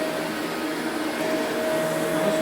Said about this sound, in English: It's a very powerful vacuum cleaner.